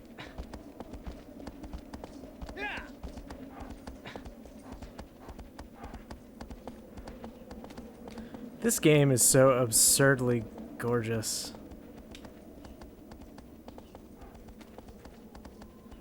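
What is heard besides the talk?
horse hooves while riding in the video game Shadow of the Colossus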